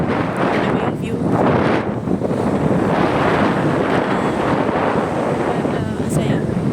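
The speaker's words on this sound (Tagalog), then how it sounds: "Ang sarap, ang hangin." Strong seaside wind roars steadily against the microphone in a dense, continuous rush, loud throughout, with faint surf and brief voices beneath it.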